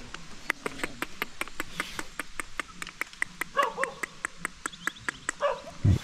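A tailless dog barks repeatedly in a steady, sharp rhythm at moderate distance in a rural highland village, with a few yips and a louder close bark near the end.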